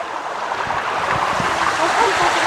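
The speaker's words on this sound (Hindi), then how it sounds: "देखिए दनदनाट पानी जा रहा है, देखिए खतरनाक पानी है भाई साहब" A strong, fast stream of water rushes on Brahmagiri mountain near Nashik, a dense steady roar close by with no voices over it.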